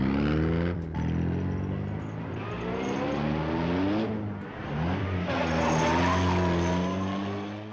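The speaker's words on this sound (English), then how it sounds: "John hops into his 1953 Austin Healey and speeds away." A 1953 Austin Healey speeds away, its engine revving hard with squealing tires. The loud, sustained roar rises and falls in pitch over several seconds with no voices.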